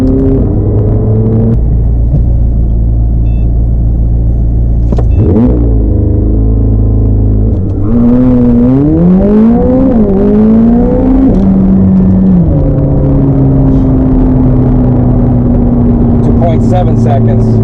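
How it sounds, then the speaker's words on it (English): A car on Toyo R888R tires launches from a standstill with launch control in a street 0 to 60 test: a loud steady idle, then a sharp rising roar as the engine revs climb through gear changes, close and dominant. "quick 0 to 60 test using launch control on the Toyo tires"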